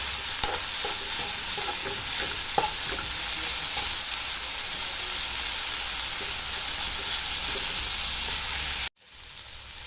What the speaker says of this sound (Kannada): ಇದನ್ನು ಚೆನ್ನಾಗಿ ಸ್ವಲ್ಪ ಹುರ್ಕೊಳ್ಳಿ